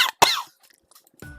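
A character in the visual novel Tsujidou-san No Jun'ai Road coughs with a cold, two short, sharp coughs close up, then a brief quiet pause before a voice begins.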